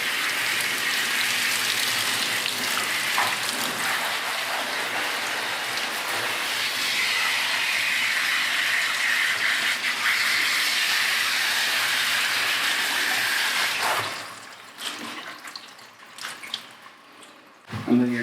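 A steady hissing spray of water rinses the beard of a Wire Fox Terrier at a grooming competition, continuous and close for about fourteen seconds before stopping, with quieter handling noises afterward.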